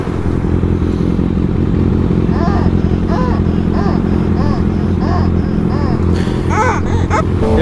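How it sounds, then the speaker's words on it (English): A motorcycle rides along an open road, its engine a loud constant drone with wind rush throughout, while a voice talks intermittently over it. "there's another motorcycle up here. We can ride with the homie."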